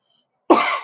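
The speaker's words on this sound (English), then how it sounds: "Man, I'm still trying to get over a cough here." A single loud, close cough from a man still recovering from an illness, starting abruptly after silence and trailing into a rough exhale, with no talk over it.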